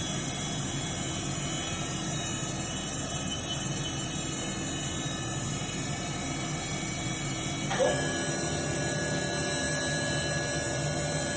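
The spindle of a 2011 Haas VF-3SSYT CNC vertical machining center spins at about 2,500 RPM, a loud, steady whine over a broad mechanical rush, with a slight shift in pitch partway through.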